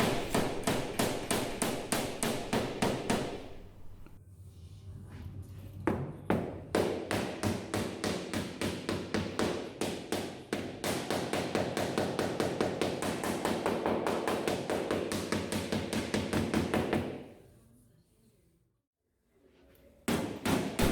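Rapid, steady metallic hammering with a panel hammer shaping an aluminium bonnet for a Mk3 Ford Capri, dense repeated blows with a brief pause midway and a quieter gap near the end.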